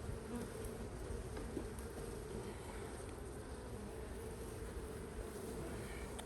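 Honey bees buzz in an opened beehive, making a continuous, even, faint drone of many insects without a break.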